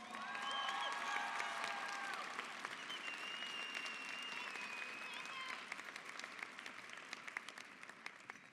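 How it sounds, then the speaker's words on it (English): A high school graduation audience applauds in a sustained round of clapping that is strongest at the start and slowly tapers off, with faint voices and cheering mixed into the crowd. "a round of applause"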